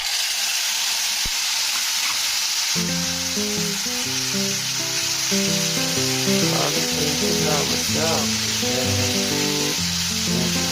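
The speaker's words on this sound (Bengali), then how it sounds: "জিরেগুলো একটু ভাজা ভাজা করে নিলাম এবারে দিয়ে দেব টমেটো পেস্ট" Tomato paste hits fried whole cumin in a hot pan and sizzles strongly and steadily throughout, with background music playing alongside.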